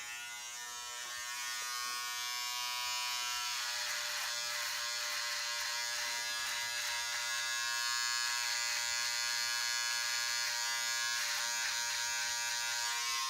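An electric trimmer trims a mustache, buzzing steadily and close for the whole stretch, its whine wavering slightly as it moves over the hair.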